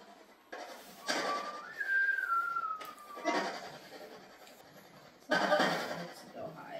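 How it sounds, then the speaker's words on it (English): A person whistles a short, high, sliding note, heard between bursts of nearby talking and background noise. "Why don't you want me to whistle?"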